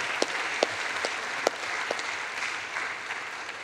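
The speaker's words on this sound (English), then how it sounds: "Have an applause for him, of course." Audience applause for a panel speaker at a democracy and media discussion forum, a steady wash of clapping with a few sharper individual claps standing out, moderately loud and with no voices over it.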